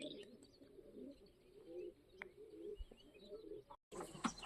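Young pigeons make soft, low cooing murmurs close by, with scattered faint chirps and a brief flutter near the end.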